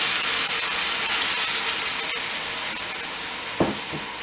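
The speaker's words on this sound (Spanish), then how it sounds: "Una vez pasados los dos minutitos, vamos a incorporar nuestra salsa." Salsa for chilaquiles sizzles as it is added to a hot frying pan, a steady loud hiss of frying that fades slightly, with a brief stir or clatter near the end.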